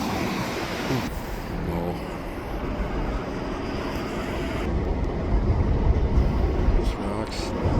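A steady loud rumble and clatter of a freight train rolling past on the tracks near the Queensboro Bridge, continuous and close, with a roar that builds toward the end as articulated rack cars pass.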